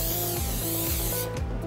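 Cooking spray hisses steadily onto a pizza pan being pre-greased for a frozen 26-ounce dough flat, a close, continuous spray that trails off near the end, with no talking.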